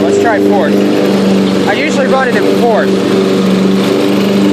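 A six-speed Yard King riding lawn tractor engine drones steadily and loudly while mowing, a close, constant buzzing hum under someone talking.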